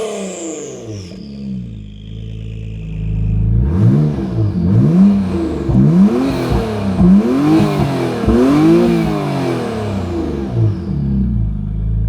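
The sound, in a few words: Acura NSX Type-S hybrid engine revving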